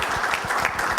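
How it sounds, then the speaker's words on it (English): Audience at a 2013 bootcamp event clapping for a speaker, a dense, steady patter of many hands heard up close for a brief moment. "let's give Randy a round of applause"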